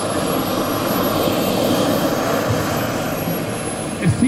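Turbine jet engine of a large RC model MD-11 airliner in flight, built in the Swiss style, giving a steady, loud whine and roar with a faint rising gust near the end.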